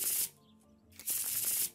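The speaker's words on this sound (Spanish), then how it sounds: "Ah, mira, barajar." Tarot cards are shuffled in the game Martha is Dead, two quick riffling bursts of papery hiss separated by a short pause, close and alone.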